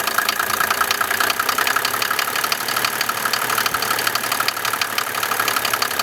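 A 1987 Mercedes 300SDL diesel engine idles steadily with a rough, rattling clatter, close and constant, with no voices; its exhaust gas recirculation is disconnected.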